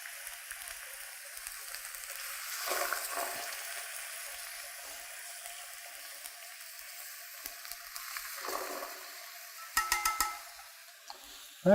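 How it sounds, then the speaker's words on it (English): Swordfish steaks cooking in a pan give a quiet, steady sizzle with a few swells and some brief clicks near the end, with no talking. "Instead, we're going to just cook it in a pan."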